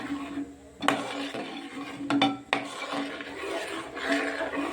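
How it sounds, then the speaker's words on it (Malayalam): A spoon stirs wheat ada payasam in a pot, with scraping and a few sharp metallic knocks against the side, close and clear with no talking. "ഇളക്കി മിക്സ് ചെയ്യാം."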